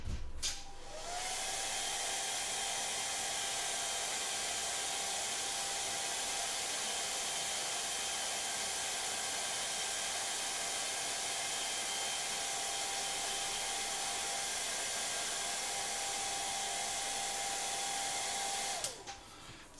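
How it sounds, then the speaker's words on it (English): Hair dryer blowing steadily to dry paint on a miniature model, a close, loud, constant whooshing hiss with a faint motor whine, switched on at the start and off at the end, with no talking. "is grab yourself a hairdryer"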